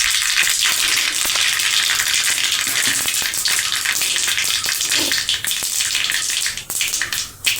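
Mustard seeds crackle and sizzle in hot oil alongside cumin, asafoetida and turmeric for a Kathiyawadi gathiya curry, giving a dense, loud, continuous spitting fry that thins out toward the end.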